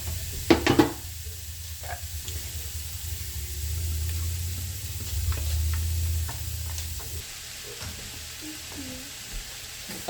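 Cabbage and other vegetables cook in a pot for a buckwheat pilaf, a soft steady sizzle and low simmer with a few sharp clinks of stirring near the start and light scraping throughout.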